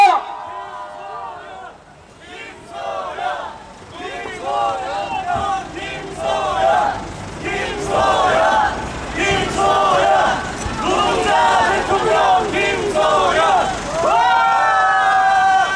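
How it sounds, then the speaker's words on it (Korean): A crowd at an outdoor presidential campaign rally in Dongdaemun cheers and shouts, the noise building and holding loud for several seconds with many overlapping voices. "뜨거운 박수 부탁드리겠습니다."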